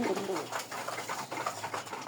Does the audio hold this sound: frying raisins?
no